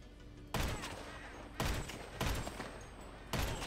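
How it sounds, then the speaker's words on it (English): Bursts of automatic gunfire ring out in a GTA 5 shootout, four loud rapid volleys separated by short pauses, close and sharp with a slight echoing tail. "I'm just gonna try and get into a good position to shoot him."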